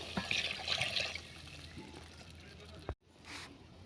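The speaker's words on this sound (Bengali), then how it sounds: "মশলাটা কষানো হয়ে গেছে, এবার জল দিয়ে দেবো।" Water poured into frying spice paste for a Bengali fish curry, a close hissing, bubbling sizzle that fades out as the pour ends, followed by a brief knock and a softer sizzle, with speech heard.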